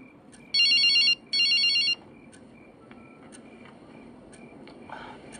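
A phone ringtone sounds in two loud electronic bursts close by, then stops, leaving a quiet room with faint murmuring.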